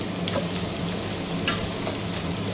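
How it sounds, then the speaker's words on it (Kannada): Green chilies go into a pan of golden-browned onions and peanuts and fry with a dense, steady sizzle. A few faint clicks from utensils rise above the constant crackle. "ಈರುಳ್ಳಿ ಬೆಂದ ಸ್ವಲ್ಪ ಗೋಲ್ಡನ್ ಬ್ರೌನ್ ಆದಮೇಲೆ ಅಷ್ಟು ಹಸಿಮೆಣ್ಸಿನ್ಕಾಯಿನ ಹಾಕೊಳ್ತಿದ್ದೀನಿ"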